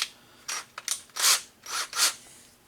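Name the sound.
screws being driven into arcade cabinet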